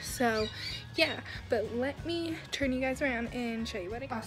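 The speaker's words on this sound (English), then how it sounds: "That's my grandparents' bird. He or she chirps all the time." A pet bird chirps and squawks repeatedly at close range in a home, sharp bright calls coming every half second or so beneath a woman's speech.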